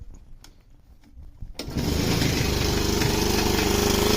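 A small go-kart engine cranks through a few quiet attempts, then fires and settles into a loud, steady but slightly rough running drone close by.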